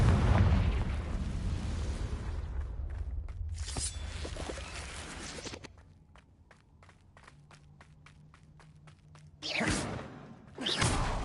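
Confringo fire spells explode in Hogwarts Legacy: a long, roaring fiery blast up front, then quieter crackles and rapid popping, followed by two more sharp, booming bursts near the end.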